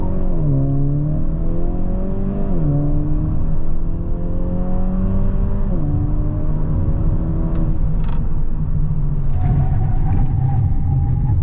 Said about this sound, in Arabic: ونشوف كم حنجيب تسارع من 0 ل 100، ويلا ونعمل اختبار للبريك. حطينا وضعية سوبر سبورت، فول بريك وفول بترول.